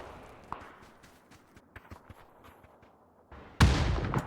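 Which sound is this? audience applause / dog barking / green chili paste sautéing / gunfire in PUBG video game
gunfire in PUBG video game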